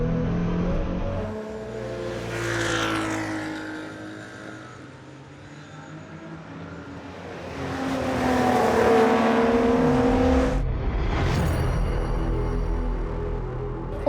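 Racing cars from the 1960s at the Hungaroring circuit, engines roaring and revving as several pass close by in waves, loud and alone with no talk.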